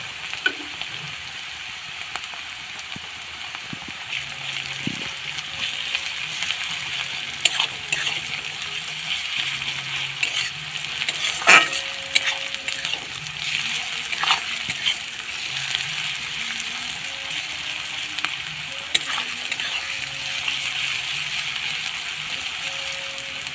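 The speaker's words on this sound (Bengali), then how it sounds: "পেঁয়াজের সাথে রসুনটা খুব ভালোভাবে ভেজে নেব" Garlic paste fries with lightly browned onions for chicken kosha, a steady close sizzle with occasional stirring knocks and scrapes running throughout, no talk over it.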